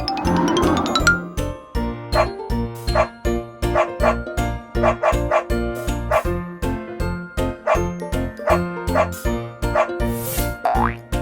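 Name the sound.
cartoon dog barking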